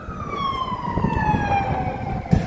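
Emergency vehicle siren wailing in a slow, steady sweep over a rumbling street background in an urban setting near the United Nations, moderately loud and without talking.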